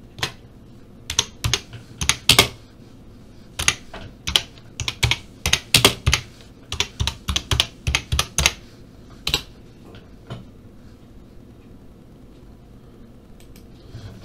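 Keys clatter on a computer keyboard in quick irregular bursts, loud and close, then trail off into near quiet with a faint hum.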